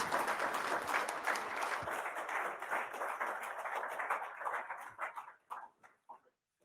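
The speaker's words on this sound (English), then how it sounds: "a big round of applause." Sustained applause from a large crowd at an Army conference closing session, steady and full, then thinning out to a few scattered claps at the end.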